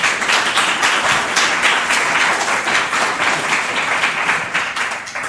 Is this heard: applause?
yes